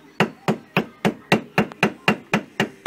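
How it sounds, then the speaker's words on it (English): A hammer taps gasket paper ten times in a steady, even rhythm, cutting a gasket, each strike sharp and close with a short ringing decay, no voices. "place it on top, feel around, look for the holes, and with your hammer just tap gently"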